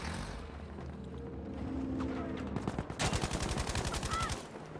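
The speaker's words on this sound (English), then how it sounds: "I'm gonna get on the machine gun." Machine gun firing in Battlefield 5 comes in as a loud, fast, regular rattle of shots in the second half, after a rumbling stretch of battle noise.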